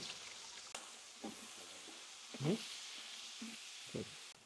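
Onions frying in a pot for akhni biryani, a faint soft sizzle with a few brief scrapes and stirring bursts, quiet and close with no voices.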